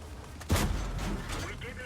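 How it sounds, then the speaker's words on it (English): A tank cannon fires in a tank video game, a single sharp boom with a short rumbling tail, loud and close amid game background noise. "Sneaky little shot through a very small gap there."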